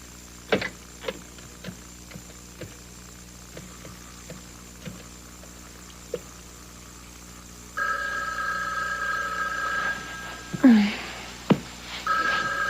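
A telephone is dialed with a few short tones and clicks, then a steady electronic ringing tone sounds at a late-night home, close and clear with brief soft noises between.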